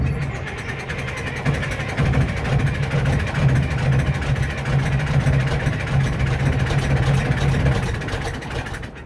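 Case 2470 tractor engine running after a recap, held at a steady elevated throttle: continuous loud rumbling drone with a low humming tone, near and unbroken throughout.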